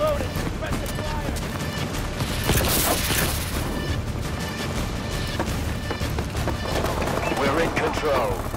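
Rapid gunfire and explosive bursts from a team deathmatch on the Horizon map in Call of Duty: Advanced Warfare, dense and continuous, with shouted voices over the top.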